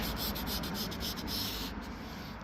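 Small pieces of trim on a rusty Vauxhall Corsa are scuffed by hand with 320 grit sandpaper before painting. Quiet, close, rhythmic rubbing strokes repeat steadily for a couple of seconds, with no talking.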